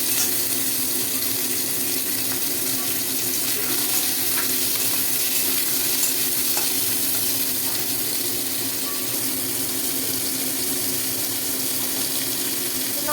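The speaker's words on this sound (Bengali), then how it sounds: "এবার কড়াইয়ে সাদা তেল দিয়ে সর্ষে ফোড়ন দেবো।" Mustard seeds, star fruit and tomato fry in oil in a wok, giving a loud, continuous dense sizzle that holds steady throughout with no voices.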